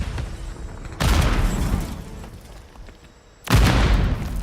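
A Semtex grenade detonates in a first-person shooter, a loud broadband blast at about one second with a rumbling tail, followed by a second heavy explosion near the end.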